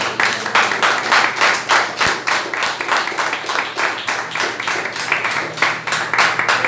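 A church congregation claps in a steady rhythmic beat, each clap distinct and evenly spaced, moderately loud, with a low hum underneath.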